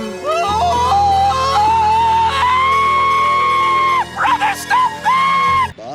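Loud, sustained screaming from a cartoon character, drawn-out and wavering across several seconds, with a brief break of yelps near the end before the cry resumes and cuts off abruptly.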